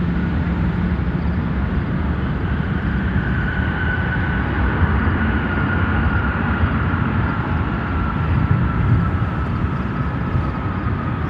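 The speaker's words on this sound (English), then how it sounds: "767-300 freighter." A FedEx Boeing 767-300 freighter landing at Chicago O'Hare gives off a broad, continuous jet roar that holds steady for the whole span, with a faint whine above it and no talk.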